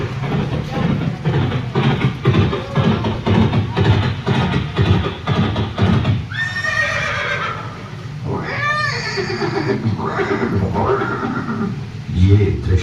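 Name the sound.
horse neighing, the horse Chetak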